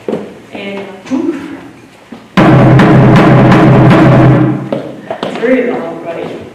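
A Korean buk barrel drum is beaten very loudly at a live performance, a dense burst of pounding strokes lasting a couple of seconds between stretches of speaking.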